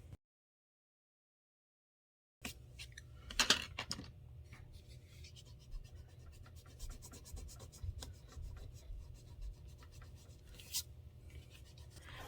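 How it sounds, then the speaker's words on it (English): Gray pencil drawing on watercolor paper for a loose daisy painting, a soft steady rubbing scratch that starts after a couple of seconds of silence and continues close and quiet, with a few brief louder strokes. "I think I am going to take a bit of a gray pencil."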